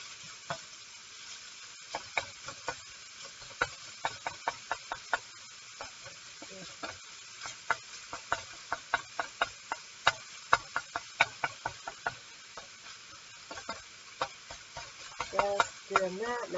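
Sausage for a breakfast casserole is chopped and stirred in a frying pan, giving irregular sharp knocks and scrapes of the utensil over a soft, steady sizzle, with a busier flurry of scraping near the end.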